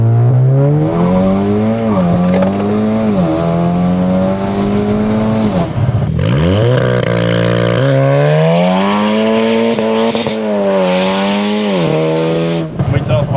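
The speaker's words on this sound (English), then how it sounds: "Wheel spin, and I got wheel spin." A loud stage 3, 500 bhp Mk3 Seat Leon Cupra R launches with wheel spin, its engine revving hard in rising and falling sweeps, with a gear change midway before it surges again, close and continuous with people talking over it.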